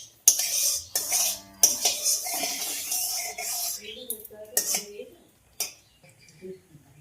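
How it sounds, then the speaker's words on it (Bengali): Dried red chillies frying in oil in a pan, stirred with a metal utensil: sharp scraping clinks and a steady hiss come close and fairly loud in bursts, thinning out toward the end. "লঙ্কাগুলো ভাজা হয়ে গেছে"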